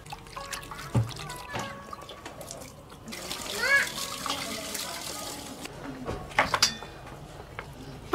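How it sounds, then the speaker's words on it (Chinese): Tap water trickles and splashes intermittently as duck legs are rinsed at a home kitchen sink, with brief clatters and some voices nearby. "把鸭腿往进洗一下"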